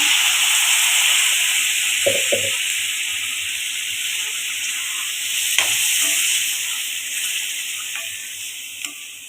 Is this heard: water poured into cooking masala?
yes